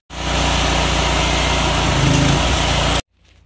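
Van-mounted drain jetter engine running at a loud, steady drone with a buzzy rattle for about three seconds before cutting off abruptly, leaving near silence and a faint low rumble.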